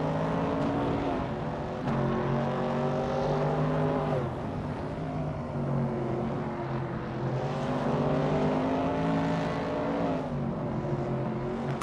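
Vintage Trans Am race cars, among them a 1969 Chevrolet Camaro, racing on a tight track with short straights: loud, continuous engine roar with shifting revs and pitch rising and falling as cars pass close by.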